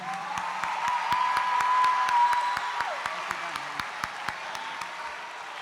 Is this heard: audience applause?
yes